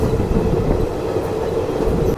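A train rumbles steadily along the rails from inside a carriage on a journey from Punjab to the Maha Kumbh, a loud continuous roar with faint rhythmic clatter of wheels.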